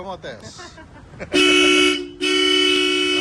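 A Bosch Europa horn on a Mazda CX-5 blasts twice in long, loud sustained honks, following a moment of brief talking nearby.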